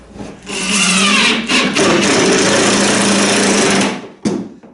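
A power drill drives a number 10, 1 1/4 inch bronze screw into a countersunk hole in an oarlock block for a wooden dinghy, a loud whirring run of about three seconds with a short burst near the end.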